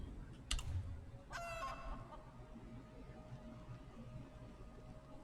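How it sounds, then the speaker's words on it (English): A chicken in the video game Elder Scrolls Online gives a sharp cluck, then a longer squawking call, loud and close over a quiet background hum, with no talking. "bring out the chicken"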